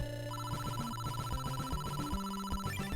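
Castlevania NES chiptune music with a rapid warbling tone that resembles a telephone ringing, layered over steady square-wave bass and melody lines, loud and continuous throughout.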